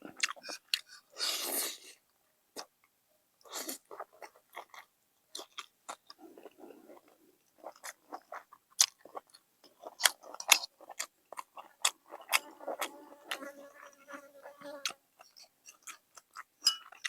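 Close, quiet chewing of stir-fried kale with crispy pork, with scattered crunchy bites and wet mouth clicks at an irregular rhythm across long stretches.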